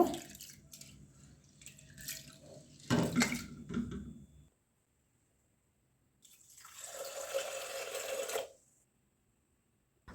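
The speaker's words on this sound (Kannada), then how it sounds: "ನೀರು ಕ್ಲಿಯರ್ ಆಗುವ ತನಕ ಹೀಗೆ ಎರಡು ಮೂರು ಬಾರಿ ಇದನ್ನು ತೊಳಿಬೇಕು" Parboiled rice being washed in water until it runs clear, with two bursts of swishing and pouring water separated by a quiet gap, fairly faint and close.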